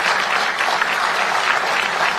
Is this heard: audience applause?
yes